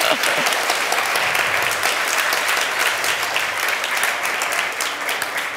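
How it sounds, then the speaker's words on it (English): A loud, sustained round of applause from an audience at a women's entrepreneurship day event as a speaker walks onto the stage, many close hands clapping densely for several seconds with a few voices mixed in. "Let's clap her on."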